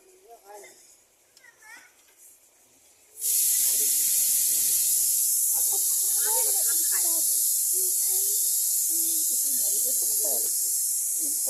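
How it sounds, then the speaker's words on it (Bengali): A pot of mustard paste gravy for hilsa curry cooks on the stove. A loud, steady hiss starts suddenly after a few quiet seconds and carries on unbroken to the end, with faint voices talking underneath. "সর্ষে বাটা ঝোলটা ওটা ফুটে গেছে"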